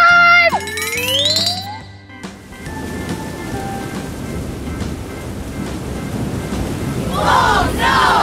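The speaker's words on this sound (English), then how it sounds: "See, the storm is coming." Storm sound effect with a loud crack of thunder followed by rolling rumble and steady rain-like noise, after a brief burst of bright electronic tones.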